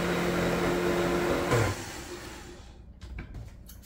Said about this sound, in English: just blend it all up.